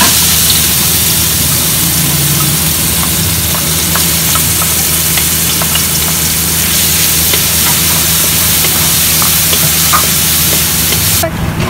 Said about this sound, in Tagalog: Para sa ating filling, igigisa na natin ito.